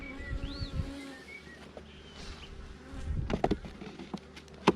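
Honey bees hum steadily around an open hive during an inspection, with individual bees droning past close by and light tapping and handling noises toward the end.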